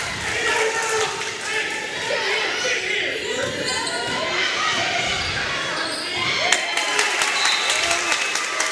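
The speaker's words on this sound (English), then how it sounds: "And this crowd is into it." Loud crowd cheering and clapping fills a girls high school basketball game between Chapmanville and Summers County, with a dense, steady roar, sneaker squeaks and ball bounces, and a play-by-play voice talking over it.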